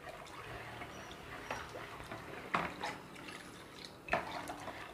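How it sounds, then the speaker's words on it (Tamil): Salt is stirred into water in a kitchen to dissolve it, making faint, quiet liquid swishing with a couple of slightly sharper clinks or splashes. "இப்போ உப்பு நல்லா கரையிற அளவுக்கு நல்லா கலக்கி விடணும்."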